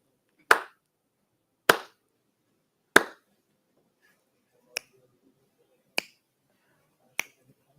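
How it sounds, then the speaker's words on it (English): Six sharp isolated hits sound alone in a quiet room, three fuller claps followed by three crisp finger snaps, evenly spaced about a second or more apart, used to count out a number. "So do you want to clap and snap the number again?"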